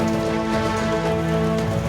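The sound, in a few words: steady rain falling in Mandya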